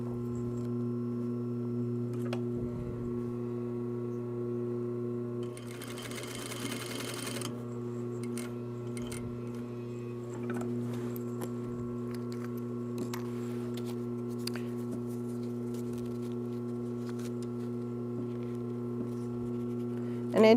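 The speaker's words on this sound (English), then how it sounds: "So what we're doing now is we're stay stitching your web loops." Sewing machine stay stitching web loops on a fabric shoulder bag, a steady droning motor hum with rapid needle chatter, a louder burst of stitching partway through, and quiet handling noises.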